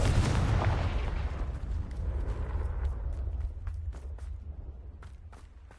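Confringo spell explosion in Hogwarts Legacy near a Thestral nest: one loud, close blast that fades into a long rumbling tail, with a few faint crackles as it dies away.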